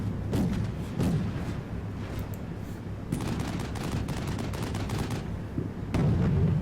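Tank gunfire in the video game Combat Mission Shock Force 2 comes as repeated heavy bursts of shots and booms layered over a steady rumble of battle, loud and continuous with sharper volleys near the middle and end.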